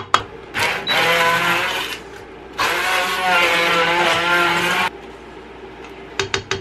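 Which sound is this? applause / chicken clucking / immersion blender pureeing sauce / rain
immersion blender pureeing sauce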